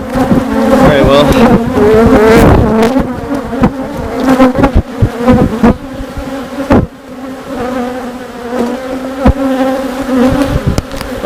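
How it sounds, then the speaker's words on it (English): A dense swarm of honeybees drones loudly and steadily around a queen cage inside an opened hive box, with a few sharper buzzes from bees flying close by. "Hopefully you can see this, given the amount of bees all over the cage."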